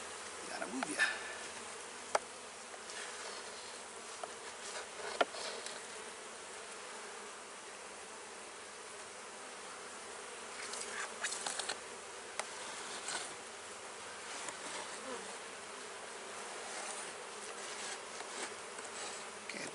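Honey bees buzzing around an open hive as frames are inspected, a steady, fairly quiet drone that fills the whole stretch, with brief clicks and knocks of handling now and then.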